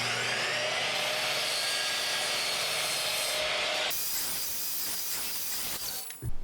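A Bosch GCM miter saw cuts through a workpiece, its loud motor whine and blade rasp running steadily close by before spinning down, followed by brief clatter.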